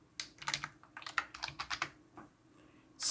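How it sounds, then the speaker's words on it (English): A computer keyboard is typed on while entering a hostname command on a Raspberry Pi setup: a quick, close, irregular run of clicky keystrokes followed by a louder key press at the end, with no speech. "we just need to type in host name"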